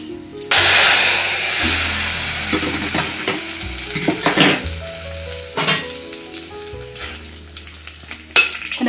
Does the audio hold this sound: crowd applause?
no